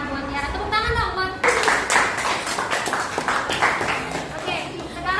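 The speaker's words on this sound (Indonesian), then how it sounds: "Nah, buat Tiara tepuk tangan dong buat." Classroom clapping for a student named Tiara during a teacher's lesson, a burst of many hands that starts abruptly after someone speaks and continues as a dense, lively round with children's voices mixed in.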